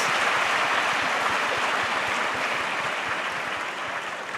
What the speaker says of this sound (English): A huge round of applause for all the participants and answers